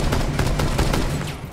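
A burst of rapid gunfire in the Rainbow Six Siege video game, loud and dense, with several sharp shots in quick succession filling the moment.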